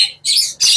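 A lutino parakeet kept in a pair at a bird market gives two loud, harsh squawks close by, separated by a short pause, with no talk.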